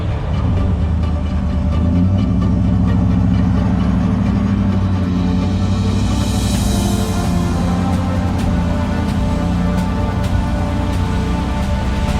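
A Toyota Tacoma in flood water in the Osceola National Forest revs hard with its wheels spinning: a loud, steady engine roar mixed with churning, splashing water that runs unbroken throughout.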